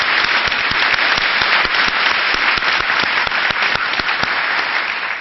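Dense, steady applause from an audience at a university board of regents meeting, honoring Mike, Veronica, Joe and Nina, filling the room continuously with loud, close clapping throughout.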